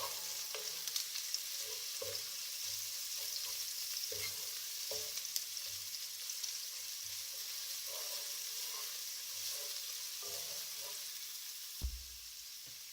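Ginger garlic paste is stirred into onions frying in a pan under a steady, bright sizzle, with soft intermittent scraping strokes of a utensil throughout and a brief thump near the end, close and continuous.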